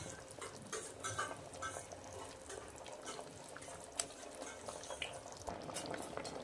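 A cabbage and egg curry bubbles in a pan at low level, with a steady simmering hiss and scattered small pops and drips, plus an occasional soft clink.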